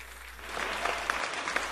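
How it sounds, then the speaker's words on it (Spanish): Applause at an awards ceremony in Ecuador as radio figure Freddy Weir is honored: a dense, sustained crowd clapping with a few sharper claps standing out. "hoy queremos honrarlo con un fuerte aplauso"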